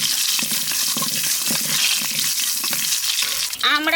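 Mustard seeds and dry red chillies fry in hot oil for masoor dal, giving a loud, continuous crackling sizzle with busy spattering close by that runs for the whole stretch, and no one speaking.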